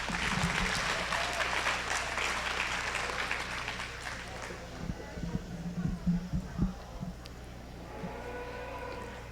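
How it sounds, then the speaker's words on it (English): Audience applause at a junior cattle breed show ring in West Fargo, North Dakota, a dense loud clapping that fades after a few seconds into scattered claps and a murmuring crowd, with talk over it. "Let's give them a big round of applause."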